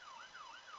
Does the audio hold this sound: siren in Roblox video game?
yes